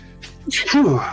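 A single sharp sneeze bursts out during a tabletop Dungeons & Dragons session, short and close, with voices murmuring around it.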